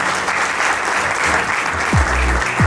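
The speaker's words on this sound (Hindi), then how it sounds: "एक बार जोरदार तालियां उन सबके लिए।" An audience at a Dhun Foundation event breaks into loud, sustained applause honoring its guests. The crowd's clapping is thick and continuous, and a couple of low thumps, likely microphone handling, land near the end.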